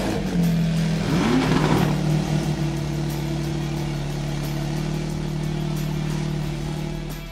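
A Mercedes performance car is driven on the road, its engine briefly rising in pitch as it accelerates and then holding a steady, loud droning note with tire and wind noise underneath.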